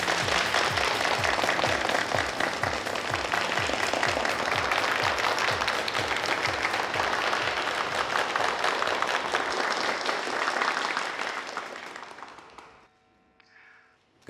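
Sustained applause from an audience greets the general manager and a fashion brand's designer taking the stage, steady dense clapping that fades out near the end.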